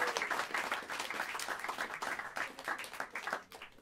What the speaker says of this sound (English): Give Smalls a round of applause.